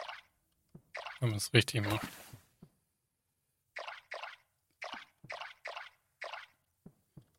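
In the Core Keeper mining game, a watering can splashes plants in a row of short, wet drips and squishy plops, with someone speaking briefly before they begin.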